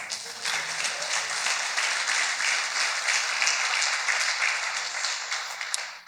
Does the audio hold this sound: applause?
yes